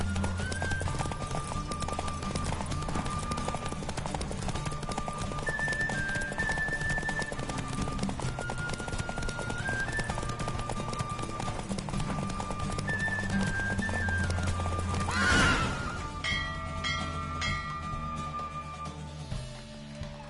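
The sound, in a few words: horse galloping in video game Witcher 3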